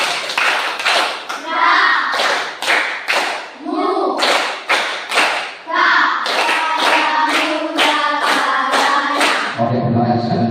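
Schoolchildren in a classroom clap out the 3-3-7 rhythmic pattern together, sharp loud group claps in repeated bursts of three, three and seven, close by, with a short voice at the very end.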